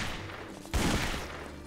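A single loud gunshot in a zombie shooter video game bursts out suddenly and then decays through a short, roaring tail, with no talk over it.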